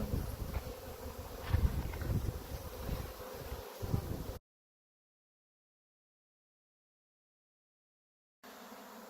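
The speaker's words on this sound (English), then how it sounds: "I am catching my bees swarming." A swarm of honeybees buzzes outdoors in summer, a dense, fairly faint drone with rustling for about four seconds, then silence before a short quiet stretch resumes.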